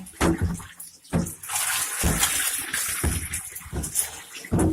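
Water gushes and splashes while a rat's aquarium tank is rinsed out, coming in several strong pours with brief pauses between, loud and close.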